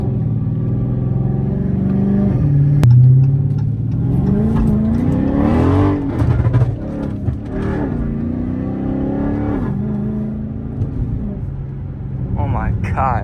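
A flame-tuned Dodge Charger Scat Pack revs hard and loud while sliding through turns on wet roads in the rain. The V8 engine surges and falls in pitch close by, and people talk over it throughout.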